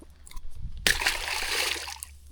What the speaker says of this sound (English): I'm going to chuck you back in the water.